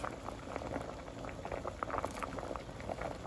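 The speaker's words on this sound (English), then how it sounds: "my peas is boiling" A pot of peas bubbling at a steady boil, with soft popping and gurgling bursts over a low simmering rumble.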